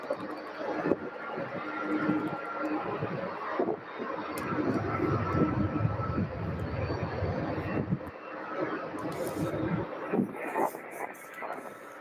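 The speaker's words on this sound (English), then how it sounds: "And we have GoJet CRJ 550 on final." A GoJet CRJ 550 regional jet on final approach at Louisville airport, a loud sustained jet engine roar with wind noise that builds, holds and eases off over several seconds.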